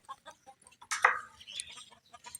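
A chicken gives a single sharp, close cluck-squawk over faint background clucking and rustling.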